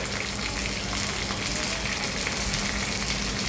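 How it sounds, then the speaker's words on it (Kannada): Mustard seeds splutter and urad dal fries in hot oil, tempering for a no-onion, no-garlic molagootal sambar. A steady, dense sizzle runs unbroken throughout with no voices. "ಸಾಸಿವೆ ಚಿಟ್ಕುತ್ತಿದ್ದಂಗೆ ಉದ್ದಿನಬೇಳೆ ಹಾಕ್ಕೊಳ್ತಿದ್ದೀನಿ"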